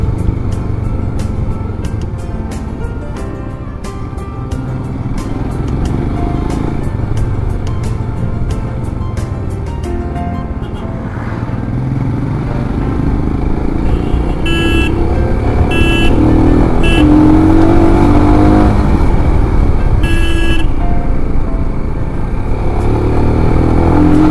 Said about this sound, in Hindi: पहाड़ों पे बाइक राइड करना।